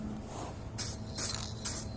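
Spray gun laying a light tack coat on a Kawasaki ZX6-R motorcycle part outdoors, three short hissing bursts of about a quarter second each, close and fairly loud over a low steady background hum.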